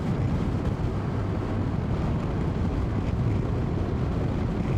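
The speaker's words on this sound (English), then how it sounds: "6th gear feels like a bit of an overdrive." Honda NC750X motorcycle in sixth gear at low revs, a steady low engine drone blended with heavy wind rush, constant and unbroken from start to end.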